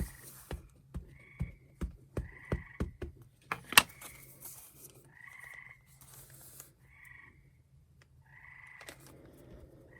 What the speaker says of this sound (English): The reason the frogs are so loud is it's actually 10 o'clock at night.